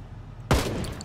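A single sharp gunshot cracks loudly in the zombie survival video game Project Zomboid. It comes after a brief quiet moment and trails off into a short decaying echo.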